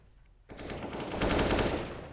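Rapid automatic gunfire sprayed in a Counter-Strike match at IEM Katowice 2020, a dense burst that starts abruptly after a quiet moment and swells louder toward the end, with no voices over it.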